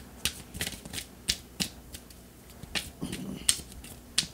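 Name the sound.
tarot card being turned over on the table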